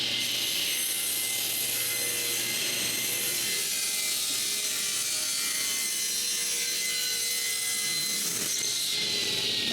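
A hand saw cuts wooden pieces to width in a woodworking shop, giving a continuous, faint, raspy rasping that runs steadily throughout, with no voices.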